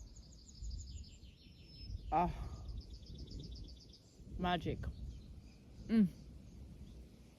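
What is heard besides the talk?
birds chirping outdoors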